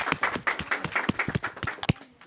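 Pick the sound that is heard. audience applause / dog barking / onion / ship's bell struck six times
audience applause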